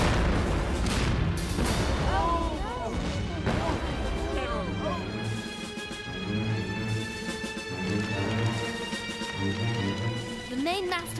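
Cartoon battle scene where a grenade sets off the gunpowder store of the warship Serapis: heavy booms and blasts crash early on, then crackling debris and rumbling follow beneath music and voices.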